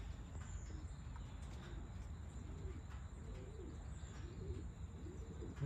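Racing pigeons coo softly at a loft, low repeated rolling coos over a steady rumbling background with faint chirps, nearby but quiet.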